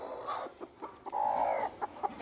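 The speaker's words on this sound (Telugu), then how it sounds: "ఇక్కడ కూడా మా దగ్గర ఇంకో కోడి ఉంది" A country hen clucks in a series of short, close calls, with one longer drawn-out cluck in the middle, otherwise alone.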